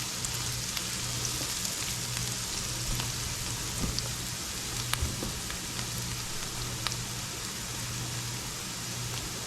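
Hot oil sizzles steadily in a pan while frying with thyme during a black beans cook, a close, even hiss with scattered small pops and crackles running throughout.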